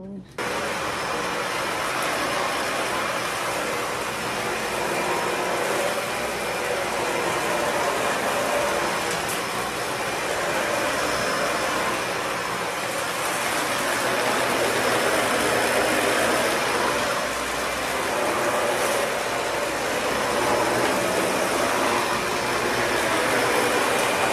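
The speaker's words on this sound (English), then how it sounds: "Last thing I do is vacuum." A household vacuum cleaner runs at home after a grocery haul for a family of thirteen, a steady, loud, broadband whine and rush holding evenly throughout with no pauses.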